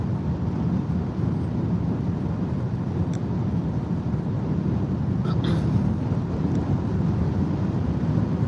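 Steady, heavy headwind rushes and rumbles during a highway drive in a Nissan Ariya electric car, a dense low roar filling the whole stretch with no voices.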